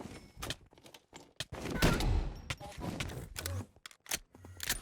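Rocket fireworks launched at the ender dragon in Minecraft, a burst of sharp game explosions and popping bangs scattered irregularly across a few seconds, fairly loud, with no talk.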